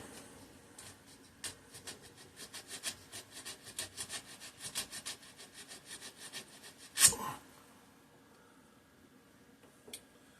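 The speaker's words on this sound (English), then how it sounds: "Let me just give this a little filing." A hand file rasps across the points of a 3hp Briggs and Stratton engine in quick, faint, rhythmic strokes, close by, followed by a couple of sharper clicks near the end.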